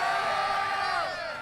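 A tournament crowd at a fighting-game top 8 event whoops and cheers loudly in response, a brief swell of voices that fades near the end.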